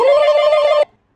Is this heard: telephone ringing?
yes